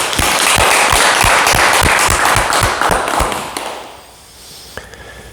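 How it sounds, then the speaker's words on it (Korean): An audience applauds an elder who asked a question at a morning Buddhist dharma talk: loud, fairly rhythmic clapping that fades out over the last second or so into a quiet room. "귀한 질문을 해 주신 안산 어르신께 박수 부탁드립니다."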